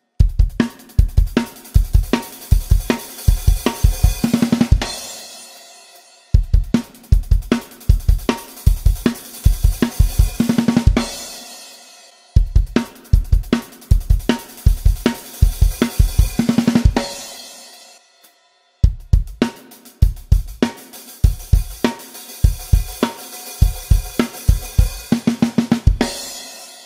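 Solo drum kit plays the opening of a song, with a hi-hat pattern opening up over three bars and a short fill at the end, loud and close, in four repeated phrases with brief gaps between them.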